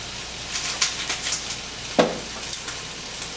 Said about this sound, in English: I'm gonna saute this stuff up a little bit